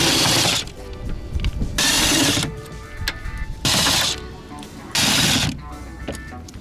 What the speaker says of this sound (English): 10mm bolts that we're going to remove.